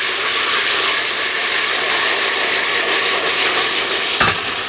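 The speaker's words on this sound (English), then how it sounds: "right now it is sizzling away" Beans for frijoles con chicos sizzle and fry in a pan, a loud, steady hiss that fills the whole stretch with a single sharp clink near the end and no talking.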